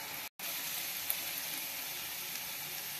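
Potato and eggplant sabzi cooks in a pan with a close, continuous sizzle that cuts out for a split second before carrying on evenly.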